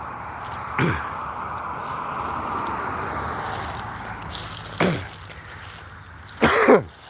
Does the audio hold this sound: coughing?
yes